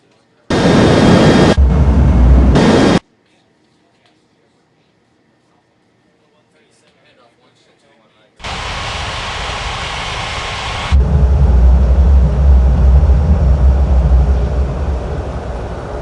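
Simulated jet engines roar in an air traffic control game. There are two short loud bursts, then a quiet gap, then a long steady roar that grows louder and heavier toward the end.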